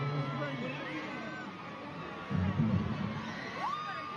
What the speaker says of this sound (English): And then sisters cheering in the background.